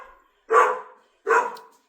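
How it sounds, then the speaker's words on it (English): A dog barks twice, each bark short and moderately loud at close range, with a brief pause between them in an otherwise quiet room. "That's my dog."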